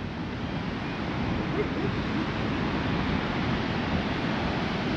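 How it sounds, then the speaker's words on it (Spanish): Steady low roar of ocean surf at night, continuous and broadband with no distinct breaks, like waves washing in nearby with some wind. "Se escucha el sonido del mar nomás, la olada."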